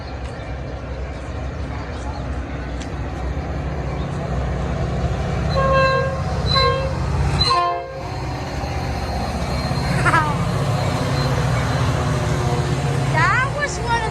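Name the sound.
Metra commuter train passing, horn sounding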